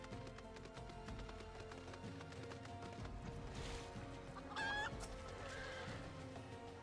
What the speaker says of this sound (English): Is that a chicken? It's a chicken.